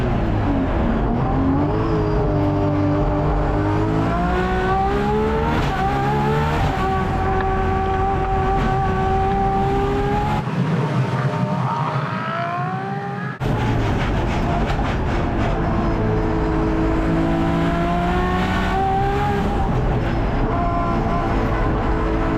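Xtreme GTR time-attack race car engine accelerating hard on track at World Time Attack Challenge, a loud continuous roar with repeatedly rising pitch through the gears and a brief break before it carries on.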